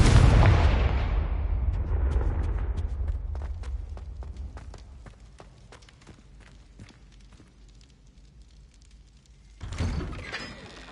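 In Hogwarts Legacy, a Confringo blasting spell detonates with a loud, booming explosion that rumbles and slowly fades amid scattered crackling debris, before a second sharp burst erupts near the end.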